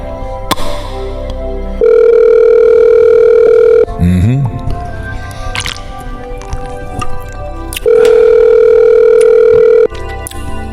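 A Google Voice call plays two loud, steady ringback tones, each about two seconds long, with squishy handling noises and clicks between them.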